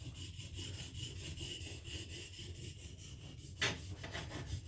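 Steady rhythmic rasping strokes of a blade dragged back and forth across a sharpening plate, quiet and close, with one sharper scrape near the end.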